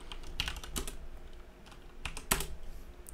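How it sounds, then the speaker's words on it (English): Bursts of quick keystrokes on a computer keyboard, clustered taps with short pauses between, close and fairly quiet. "Oh, if I can type."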